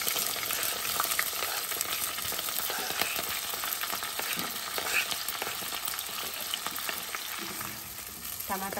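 Green chilies crackle and sizzle in hot tempering oil with cumin, garlic and curry leaves for a green mango pulusu, a steady, loud frying hiss with stirring clinks running throughout, no talking.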